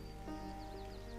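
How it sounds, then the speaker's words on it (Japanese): Soft, steady rain patter falls in the city-building game Block'hood, a faint, even hiss with light droplet textures throughout and no talking. "ここは雨が降ってきているんで、水が溜まると地下水も増える"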